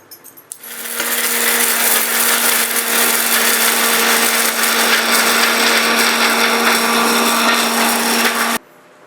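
A kitchen mixer grinder whirs loudly and steadily, grinding dry masala with no water added, a constant close high-pitched motor roar with rattling contents that starts after a brief clatter and cuts off sharply at the end.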